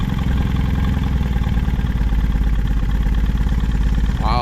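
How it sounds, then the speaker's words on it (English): Boat engine on a restoration project idles steadily with a loud, close, low rhythmic throb and clatter; a brief voice appears at the very end. "Bring her down to an idle."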